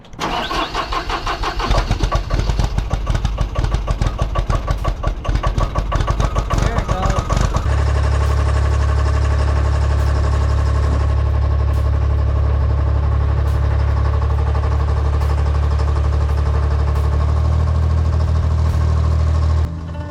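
A remote-controlled stump digging machine's engine turns over with rapid rough cranking, then catches and settles into a loud, steady, low idling rumble close by.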